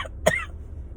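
A woman gives a single short cough, close and fairly loud, over a quiet room background with no talking.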